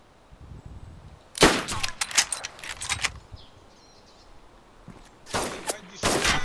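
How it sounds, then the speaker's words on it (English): Gunfire shot through a wall in DayZ: a loud cluster of several sharp shots, a pause of quieter ambience, then more bursts of shots near the end. "I'm trying to shoot through the wall at him."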